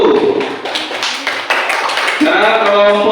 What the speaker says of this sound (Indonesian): Ya, beri tepuk tangan untuk kelompok 1